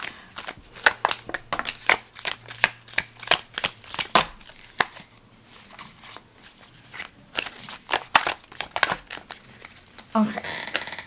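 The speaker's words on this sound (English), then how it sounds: "this one doesn't ever want to shuffle" A deck of tarot cards being shuffled by hand, with repeated sharp riffling bursts in irregular clusters and brief pauses between them, close and crisp.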